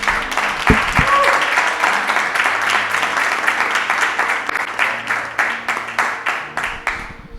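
A church congregation breaks into loud applause during an evening service, the clapping dense and close, gradually thinning into separate claps near the end, with a brief voice near the start.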